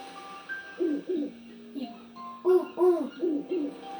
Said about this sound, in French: Oh, un hibou.